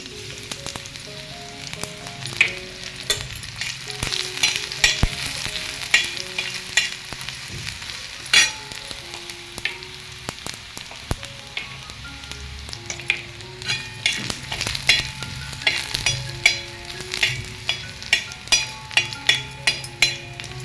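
Mustard seeds, cumin and garlic fry in hot oil for a sabji, giving a steady close sizzle and spatter with irregular popping crackles and occasional metallic clinks of a spoon stirring in the pan.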